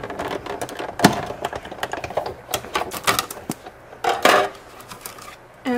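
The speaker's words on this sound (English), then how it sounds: "it's going to just roll it through the machine. And I'm going to roll it through twice just so I can make sure it's all the way cut through." A card is cranked through a die cutting machine for scalloped paper tags, making uneven mechanical clicks and clacks with a few louder rattling bursts.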